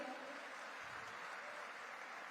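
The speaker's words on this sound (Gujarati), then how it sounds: "આજે અહીંયા એક જે પવિત્ર કાર્ય થયું છે તેને આપણે તાળીઓના ગુંજારવ સાથે વધાવીએ" Steady applause from an audience at a ceremony honouring a charitable deed, fairly faint and distant, with a few murmuring voices underneath.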